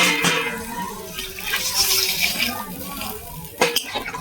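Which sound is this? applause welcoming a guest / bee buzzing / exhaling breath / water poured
water poured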